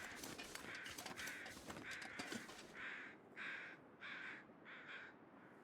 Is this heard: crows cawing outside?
yes